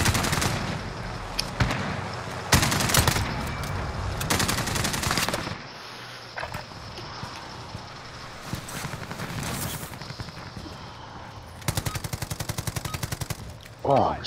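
Bursts of rapid automatic gunfire from a shooting video game, several loud rattling volleys separated by quieter stretches, with a sharp final burst near the end.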